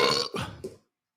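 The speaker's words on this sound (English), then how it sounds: "You guys just fucking burp." A single drawn-out burp lasting under a second, close and fairly loud, with two or three gurgling pulses before it cuts off into silence.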